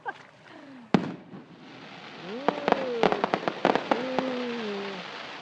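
Fireworks at a Groton Long Point family night go off outdoors: a rising whistle, a sharp boom, then more whistling shells and a rapid cluster of crackling bangs at moderate distance, with faint crowd murmur beneath.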